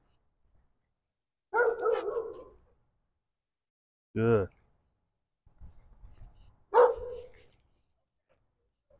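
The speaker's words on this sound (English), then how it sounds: "Barking dog." A pet dog named as barking gives several short barks, split into bursts spread across the stretch, fairly close, with a brief word of praise spoken in between.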